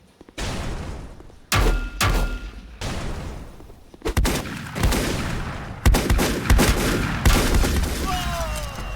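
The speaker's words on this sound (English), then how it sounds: "It's another turret I'm taking fire from" Turret gunfire in the game Volcanoids, loud bursts of rapid shots and booming impacts arriving in several separate volleys, with short pauses between them.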